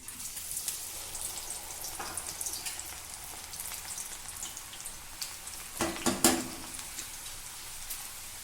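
Cassava sticks frying in hot oil in a pan, a steady faint crackle of small pops and sizzles, with a brief louder burst of spattering near the end.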